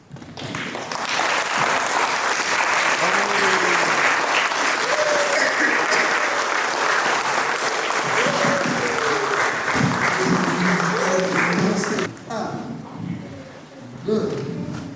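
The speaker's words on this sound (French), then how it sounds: "Vous pouvez vous lever pour applaudir" Sustained, dense applause from a theatre audience at the close of a musical comedy show in Cergy, with voices calling out over it; the clapping thins and breaks up near the end.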